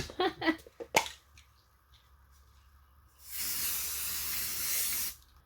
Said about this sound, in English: I think I'm spraying a little too close